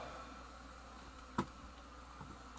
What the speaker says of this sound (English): Yes, you are honeybees, and you are pissed off at me.